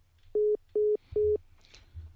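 During a live call-in broadcast, a dropped phone line sounds a disconnect tone: three even beeps in a regular rhythm, clear and moderately loud over low background hum, followed by faint noise.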